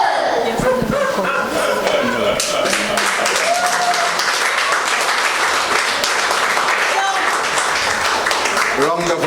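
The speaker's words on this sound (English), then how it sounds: "applause, round of applause" Audience at a mental health seminar breaks into a round of applause, dense clapping throughout with laughter and voices mixed in, loud and close.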